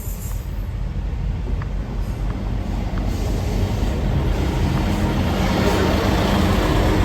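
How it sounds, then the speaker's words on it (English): A busy rush-hour train at a station in Devon or Cornwall gives a steady, loud rumble and hiss that fills the whole stretch without letting up, with no voices. "It's a busy train because it's rush hour"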